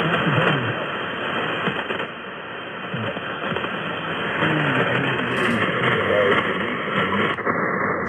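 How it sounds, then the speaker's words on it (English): A weak AM radio broadcast received on an Icom 7610 transceiver, a faint voice buried in steady hiss and static, heard continuously and fairly loud with a narrow, band-limited tone. "You can tell it's a very weak signal because I can't even get my red tuning indicator to light up here"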